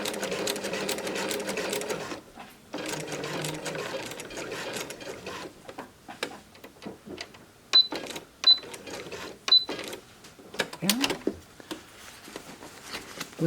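A sewing machine stitches fabric through tape on a foundation paper-pieced tulip potholder, running in fast rattling bursts with short pauses between, then a few clicks and brief stop-start runs near the end.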